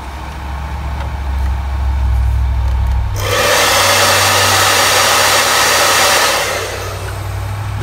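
Fan in a G4 Cube computer, run by an autonomous fan controller, surges from a low hum into a loud, steady airy whoosh close by, holds at speed for several seconds, then eases slightly.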